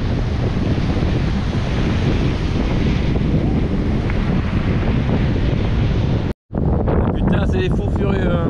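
Strong cold wind on the coast between the Cap Blanc-Nez headlands buffets the microphone in a loud, continuous roar, with a short dropout near the end.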